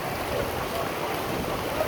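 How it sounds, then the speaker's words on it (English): The fast-flowing Truckee River rushes in a steady, broadband roar of moving water heard up close, continuous and even without breaks. "Truckee River. It's going fast. Super flow."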